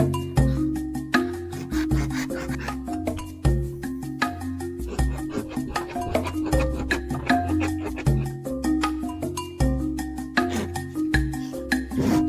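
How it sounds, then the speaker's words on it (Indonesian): A hand saw cuts bamboo outdoors with rapid, steady back-and-forth strokes, close and continuous, over a low droning background hum. "Dan mulai memotongnya menggunakan gergaji."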